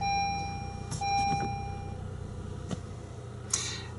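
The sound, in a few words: Honda Accord engine running after being restarted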